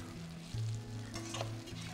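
A blue cod fillet fries in a pan with a low, steady sizzle and a few soft scrapes and stirring bumps as it is turned, quiet and close with no talking.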